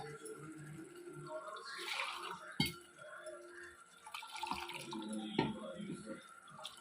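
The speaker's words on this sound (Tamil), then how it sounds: "இதில் இப்போ தண்ணி கலந்து ஊற்றிட்டு" Water mixed with coconut and poppy seed paste pours into Chettinad chicken gravy in a cooking pot, a wet, splashing drip-and-slosh with a couple of clunks of the vessel and faint background voices.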